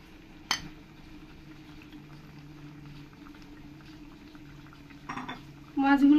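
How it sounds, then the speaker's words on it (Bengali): Cleaned puti fish go into boiling mustard gravy in a cooking pot. A single metallic utensil clank comes first, then a quiet simmer, and a louder burst of sizzling and bubbling rises near the end as the fish land in the liquid. "যখন এই ঝোলটা ভালো করে ফুটে যাবে তারপরে দিয়ে দিতে হবে এই মাছগুলো।"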